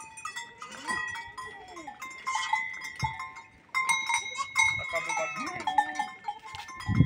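Goats on a farm bleat repeatedly in overlapping, wavering calls at moderate distance, with scattered knocks and rustling and a sudden thump at the end.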